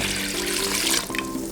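Water poured from a tap or jug into a pot of chicken and rice, a steady close splashing rush that holds throughout with no voices.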